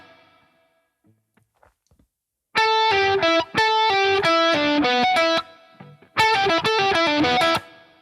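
Distorted electric guitar plays a short rock lick in two loud, close bursts of quick picked notes, separated by a brief gap after quiet handling noise.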